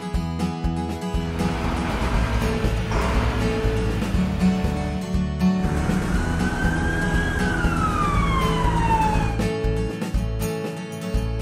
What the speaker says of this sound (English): Brush truck.